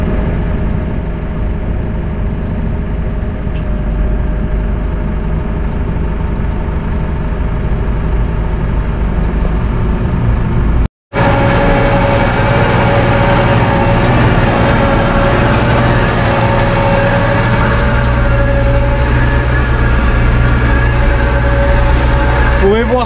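A big tractor engine idles and runs nearby during slurry spreading, a loud, steady low rumble with humming tones that continues throughout, broken by a brief dropout near the middle.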